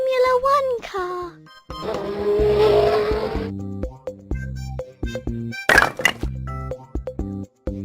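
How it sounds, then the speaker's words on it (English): A Formula One race car revving and squealing its tires, a loud burst of engine roar and skid in the middle of the clip, set among other short vehicle sounds and a voice speaking. "Formula One car."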